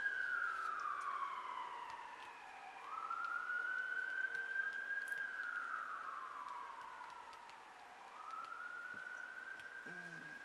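A wailing siren sweeps up and down in long, slow cycles, steady and fairly distant, with no voices present.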